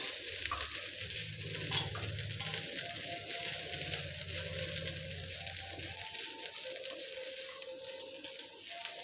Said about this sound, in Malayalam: ഇനി നല്ല ചുമക്ക വറുത്തെടുക്കണം